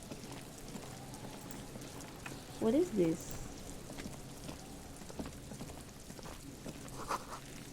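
Steady rain in the video game Disco Elysium patters through the whole stretch as a quiet ambient bed, with a brief louder burst partway through and a voice speaking over it.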